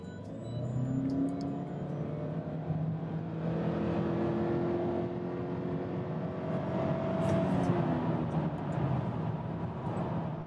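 A 2015 Toyota Camry hybrid, pairing an inline four with an electric motor, accelerates hard from standstill to 60 mph, its engine note climbing in steady rising pitch sweeps as the drone builds, loud and continuous with no talking.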